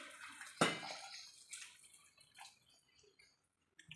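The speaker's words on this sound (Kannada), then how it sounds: "ಸೊ 3 ಕಪ್ಪು ನೀರು ಹಾಕ್ತಾಯಿದ್ದೀನಿ." Three cups of hot water are poured into rice for a vegetable biryani: a sudden splash, then a gurgling pour that tapers off, close and alone.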